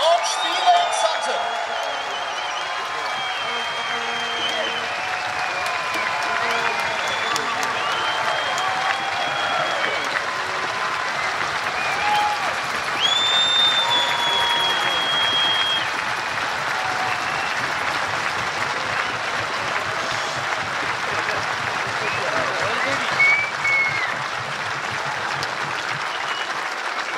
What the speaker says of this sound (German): hört mal, wie begeistert das Publikum ist, denn das ist euer Applaus